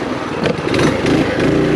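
Baja Warrior minibike with a swapped engine and CVT running up close, a steady buzzing small-engine drone that rises slightly in pitch as it revs over the short stretch.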